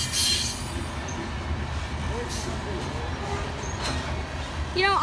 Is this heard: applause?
no